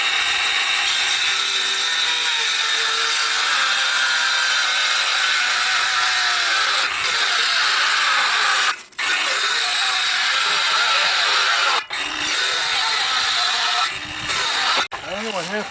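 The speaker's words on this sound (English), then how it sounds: "I think I'm going to have to get a new saw because this is sidetracking on me all the time." A hand-held power saw cuts freehand through an OSB panel on a tiny house loft wall, a loud, close, continuous rasping buzz with brief dips and stops near the end.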